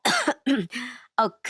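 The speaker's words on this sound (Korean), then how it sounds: "그러자 어머니는 갑자기 사례가 들리셨는지 콜록콜록 대면서 당황하시더라고요." A few loud, close coughs and throat-clearing bursts from a woman choking, in short spasms separated by brief gaps.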